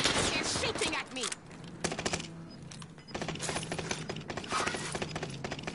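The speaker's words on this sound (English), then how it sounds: "He's shooting at me." Sustained gunfire rattles in a shooter video game, with enemy shots ringing out in clustered volleys and short pauses between them, while game voices murmur underneath.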